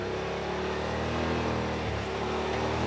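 A 2025 Yamaha RMAX4 compact side-by-side engine runs hard and close while driving through mud, a loud continuous roar with revs rising and falling slightly and no talking.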